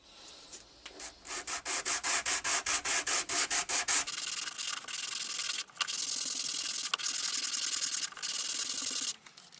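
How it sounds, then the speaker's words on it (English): Oak being sanded by hand with 120 grit sandpaper: a quick run of rhythmic back-and-forth rasping strokes, then steadier continuous scrubbing with brief pauses, close and fairly loud with no talking. "So 20 minutes of sanding later, and this is what I'm left with. 2 very nice smooth pieces of oak."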